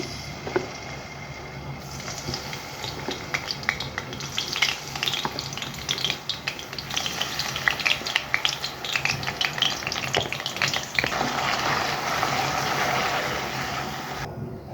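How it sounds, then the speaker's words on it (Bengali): Onion paste hits lightly heated oil in a pan and sizzles steadily, a close, continuous frying hiss with crackling pops and occasional stirring scrapes, growing denser toward the end. "তেল হালকা গরম হয়ে আসলে আমি এখানে আমার পরিমাণ মতো পেঁয়াজ বাটা দিয়ে দিচ্ছি।"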